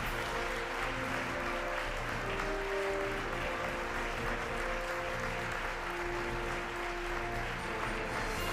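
Sustained, dense applause from a ceremony crowd at an Estonian Republic anniversary event honouring a volleyball team, a steady wash of many hands clapping at even loudness throughout.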